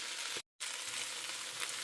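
Steady, bright sizzling of stir-fry cooking in a hot wok, close up, with a brief dropout of silence near the start.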